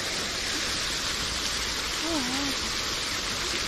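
A splashing fountain gives a steady, moderate hiss of falling water, with a brief voice sliding through partway in the background.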